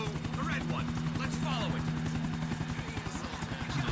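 A helicopter in GTA 4: The Ballad of Gay Tony thrums steadily with a fast rotor chop and engine drone, loud and continuous, while a person talks over it.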